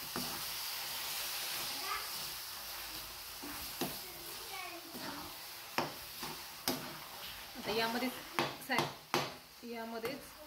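Pumpkin halwa mixture stirred in a pan, a soft continuous sizzle with irregular scraping and knocking strokes growing more frequent toward the end, with faint voices in the background.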